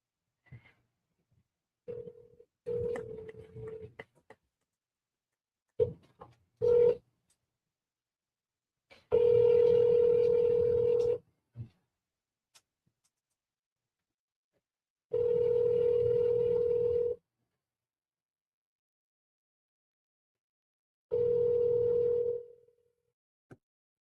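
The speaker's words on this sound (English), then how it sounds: "Call Henry and Frank Henry" A phone call placed through a phone, with short dial tones and button beeps at first, then three long, steady ringback tones separated by silence, loud and clear with no voices.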